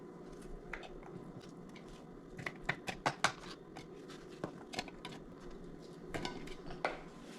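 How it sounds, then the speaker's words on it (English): Plastic clicks and rattling from a hand-twisted vegetable cutter chopping onion finely, irregular scraping and tapping bursts at close range in a quiet kitchen. "The onion that I chopped, I throw into this thing and I will twist until it becomes fine."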